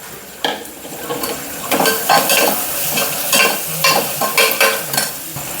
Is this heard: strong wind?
no